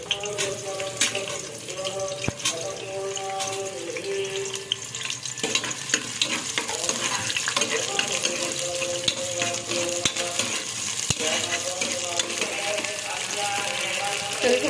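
Chopped onions frying in a pan for a Natti-style palak chicken biryani, a steady broadband sizzle running throughout with occasional stirring clatter and faint tonal kitchen noises behind it.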